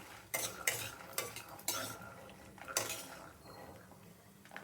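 Coriander seeds, peanuts and dried red chillies roast dry in a pan, stirred with a utensil in several distinct scraping strokes with light rattling, quiet and close, over a faint background sizzle.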